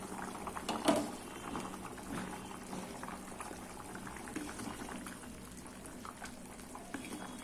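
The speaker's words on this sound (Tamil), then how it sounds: "இது ஒரு 5 நிமிஷம் நல்லா கொதிக்கட்டும்." A pot of dried anchovy and drumstick curry bubbles at a steady simmer, soft gurgling and popping throughout with a brief louder burst near the start.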